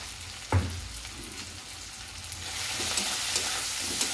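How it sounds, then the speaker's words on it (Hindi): Cauliflower sabji with turmeric powder and salt being stirred in a frying pan: a steady sizzle with scraping spoon strokes, an opening clunk, and the frying growing louder and brighter toward the end, close up with no talking. "अब इसको हम मिक्सिंग कर लेंगे"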